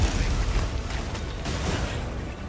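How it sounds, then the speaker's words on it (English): A burst of several explosions from the monster Rey Dau in a Monster Hunter video game, booming one after another as a dense, loud roar with no talk. "The big explosion does multiple explosions now."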